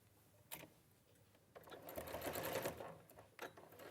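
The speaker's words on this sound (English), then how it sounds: "So you just pin it together and then sew it together down the side." A sewing machine stitches the side seam of a fabric tube, its motor whirring in a steady rapid run for a couple of seconds between brief quieter handling sounds.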